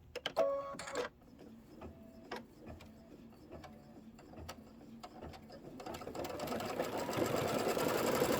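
Sewing machine stitching a pinwheel quilt block, opening with a few sharp clicks and short bursts before the motor settles into a rising, continuous close whirring run.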